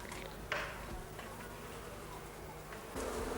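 Honey bees in an observation hive make a soft, continuous buzz, faint and close. A couple of brief knocks break the hum.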